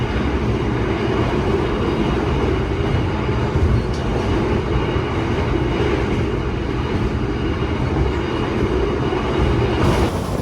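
Inside the Bogowonto passenger train between Yogyakarta and Cirebon, a steady loud rumble of wheels on rails fills the cabin, with faint rhythmic clacks and no talking.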